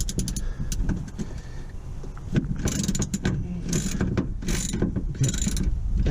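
A ratchet loosens the nuts on the fuel fitting of an Espar D2 auxiliary heater being installed in a Sprinter van, giving close, loud bursts of rapid clicking in repeated strokes with no talking.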